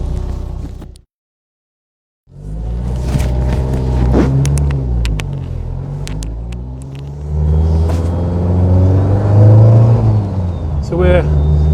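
A 500bhp Audi A3 track car engine idles and rumbles as it pulls over, low steady drone with occasional revs after a brief silence, close and loud, with a voice talking over it.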